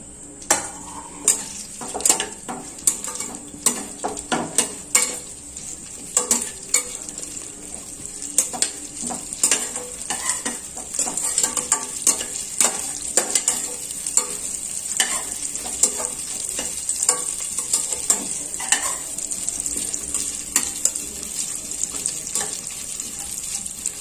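Thin-cut dry coconut pieces and nuts frying in a pan for zarda pulao sweet rice, a constant close sizzle punctuated by frequent rhythmic spoon scrapes and taps against the metal.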